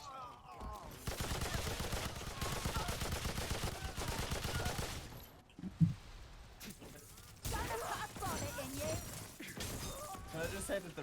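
Rapid repeater pistol fire in the video game Remnant 2 rattles in long, dense bursts, broken by a short pause and a single louder crack, while voices chatter over the shooting.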